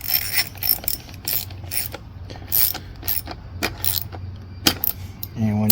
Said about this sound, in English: Again, we're with the 5/16 socket here.